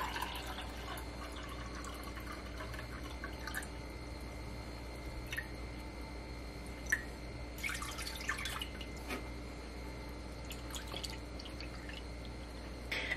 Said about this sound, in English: So in here, we are going to have water to each one.